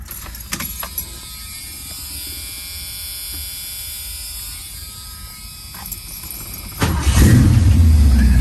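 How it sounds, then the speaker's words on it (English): A car engine cold-starting after an oil change: quiet ticking and clicks first, then the engine catches near the end with a sudden loud low rumble that settles into a steady idle. "Cold start."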